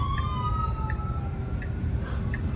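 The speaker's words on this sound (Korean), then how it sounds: "보시면 옆에 구급차가 지금 지나가는 모습인데" Ambulance siren passing a robotaxi in Austin, a steady wailing tone gliding slowly downward through the clip over a constant low rumble of road and traffic noise, with no talk.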